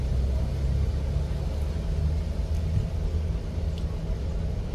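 Steady low engine rumble inside a moving car, a dense, even drone filling the cabin with no voices over it.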